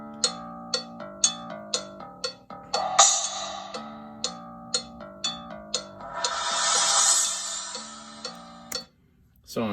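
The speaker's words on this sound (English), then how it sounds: "just random cymbal sounds." Recorded percussion track of scattered cymbal hits over a repeating pitched pattern, a string of sharp struck accents with two longer washy crashes ringing out, moderately loud, with no one talking.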